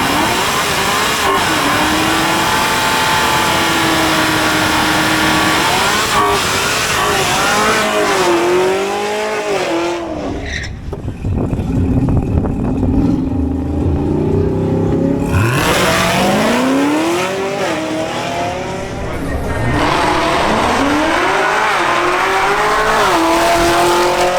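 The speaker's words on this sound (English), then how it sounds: "Now presenting Cesar Navarro in his Chevrolet Camaro ZL1." A Chevrolet Camaro ZL1 makes a drag race run, the loud engine revving hard and climbing through repeated upshifts, with a short tire squeal and a second surge of acceleration, close and with no talk over it.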